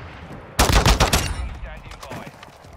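Video-game sniper rifle fire: a sudden loud burst of shots, then a fading echoing tail, alone with no talk.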